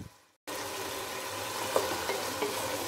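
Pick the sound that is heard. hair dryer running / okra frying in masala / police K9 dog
okra frying in masala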